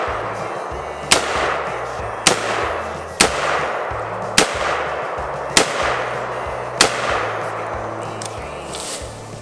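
Six sharp gunshots from a firearm outdoors on a 100-acre rural property, spaced roughly a second apart, each crack loud and abrupt with a short rumbling tail over a low steady background hum.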